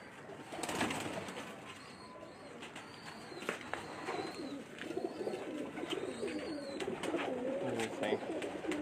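Pigeons kept by breeders cooing repeatedly in a loft, a steady murmur of soft coos with occasional wing flutters and chirps, close and continuous.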